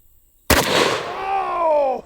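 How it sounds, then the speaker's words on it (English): A single sharp, loud 12-gauge shotgun blast fires a 1-ounce slug into a 10-pound block of dry ice after a moment of quiet, followed by a ringing, tonal resonance that fades over about a second and a half. "Now we're going to try out a 12-gauge shotgun."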